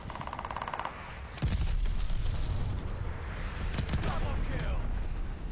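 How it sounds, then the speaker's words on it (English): Explosions from a friendly bombing run in the shooter game Call of Duty: Vanguard, two heavy booming blasts with rumbling aftermath over continuous battle noise and game voice chatter. "Friendly bombing run."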